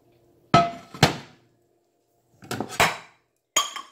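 A cast iron fryer pot and its small matching lid are handled, giving sharp metallic clunks and clanks in short bursts separated by silent pauses, close by and alone.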